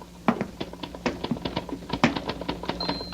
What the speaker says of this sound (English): I hear him, his typewriter.